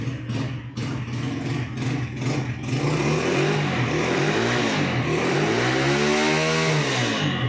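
A new Ravi 100cc motorcycle fitted with a Honda CG125-style exhaust idles loudly up close, then revs repeatedly in swelling rises and falls, with no voices over it.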